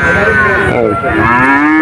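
A calf at a busy cattle market in Churighata, Jessore, lets out a long, loud, close moo, rising slightly in pitch toward the end.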